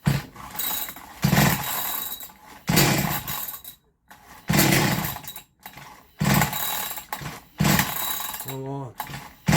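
A Zombie Slayer chainsaw engine repeatedly revs and roars in loud bursts on fast idle with short drops between them, and a voice can be heard briefly near the end.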